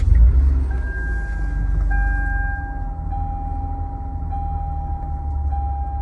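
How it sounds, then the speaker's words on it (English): A 2013 Toyota Sienna van with a fold-out wheelchair ramp idles steadily after start-up, a loud low rumble with a steady tone running across it, and no voices. "Go ahead and start up the van."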